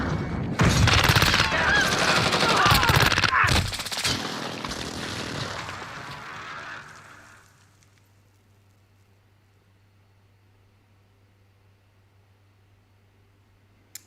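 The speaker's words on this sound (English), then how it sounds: "The LMG's not as hard hitting as I think it should." Light machine gun bursts in Call of Duty Modern Warfare, loud and dense for about seven seconds, then fading into a quiet low hum with a final faint click.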